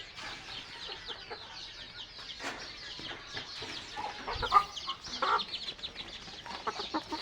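A hen clucks repeatedly in short soft bursts close by, scattered irregularly over several seconds against a quiet rural background with faint scratching sounds.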